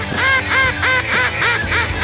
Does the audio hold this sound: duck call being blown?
yes